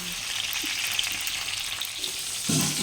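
Cut green chillies fry in a pan, giving a steady crackling sizzle that swells louder near the end, with faint stirring and no speech.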